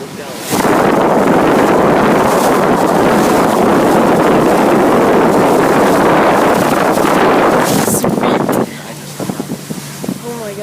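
A boat speeds across open water, with a loud, steady rush of wind buffeting the microphone and spray noise that holds for about eight seconds, then drops away abruptly near the end.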